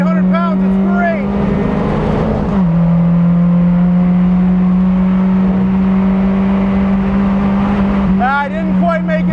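A 2017 Mazda MX5 Cup race car at speed on a track, engine droning loud and near, downshift blips and rev swoops early and late with a long steady pull between, someone talking over it.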